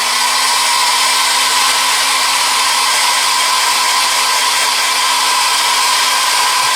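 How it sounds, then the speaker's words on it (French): A hair dryer blows loud and steady from start to finish, a continuous close-up whoosh with no pauses or talking. "Je vais mettre un petit coup de sèche-cheveux vite fait"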